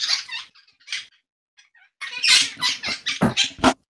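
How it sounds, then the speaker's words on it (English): A bird squeaks like a squeaky toy: a few scattered squeaks, a brief near-silent pause, then a rapid, louder run of high squeaky chirps close by. "Why does bird sound like a squeaky toy"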